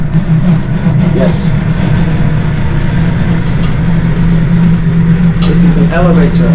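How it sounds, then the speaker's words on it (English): A home elevator runs with a continuous low motor drone that stays even throughout, while people speak over it. "This is an elevator."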